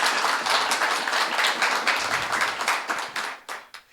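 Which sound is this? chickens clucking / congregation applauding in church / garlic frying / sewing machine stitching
congregation applauding in church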